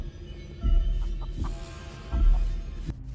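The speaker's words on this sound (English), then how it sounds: "We have an angry chicken at us" An angry chicken clucks in the Chicken Feet video game, a few short clucking calls sounding over a low throbbing game backdrop.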